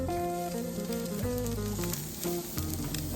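Steak searing on a hot pan during a reverse sear, a constant crackling sizzle throughout, close and steady, with music playing underneath.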